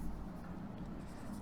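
Marker or chalk scratches steadily on a board while a math teacher teaches, a soft continuous writing sound for a second and a half.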